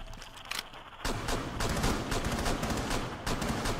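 Sustained rapid gunfire in Rainbow Six Siege, a dense, loud burst of shots that kicks in after a brief lull and continues almost without pause.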